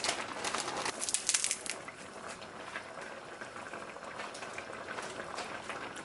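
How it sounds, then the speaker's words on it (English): Spinach and okra callaloo boiling in a pot: a close, continuous bubbling and gentle roiling of liquid, strongest early, then settling into an even simmer with no talking. "My spinach and okra is cooking away."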